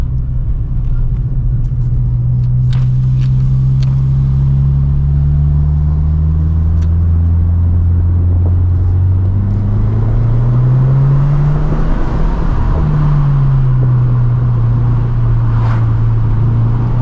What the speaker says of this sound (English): Definitely noticing a bit more sound from this exhaust